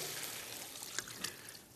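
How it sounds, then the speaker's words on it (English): Water pours into a cooking pot already holding pork fat on a television cooking show stove: a faint, steady wash of splashing liquid with a few soft drips near the end, no voices over it. "Now, we add the water."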